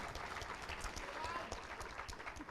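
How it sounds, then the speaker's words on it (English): Applause from an audience honoring two employees of the year at an education recognition event, a steady dense wash of clapping held at moderate level throughout. "So let's give them a big round of applause."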